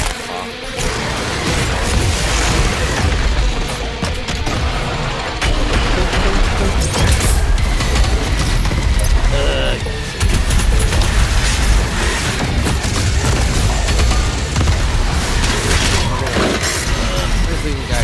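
Chaotic video game combat with dense blasts, booms and crashing impacts layered over one another, loud and continuous throughout, with grenade explosions among them.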